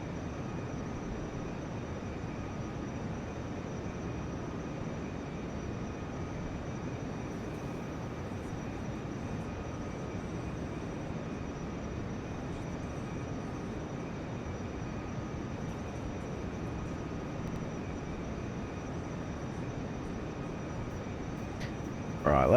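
An airliner fitted with drop tanks flies in Kerbal Space Program, giving a steady, unbroken engine drone with a constant rumble that holds at an even level throughout, with no voices.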